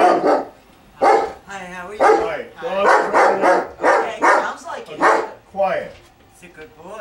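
A friendly dog at a potter's workspace keeps barking close by in a rapid series of loud woofs, with people talking over and between the barks.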